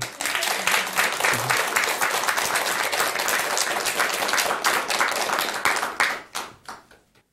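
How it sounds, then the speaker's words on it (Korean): Audience applause at a Buddhist lecture hall, a dense burst of many people clapping together, loud and steady before thinning out and fading to a few last claps at the end. "박수 쳐주세요."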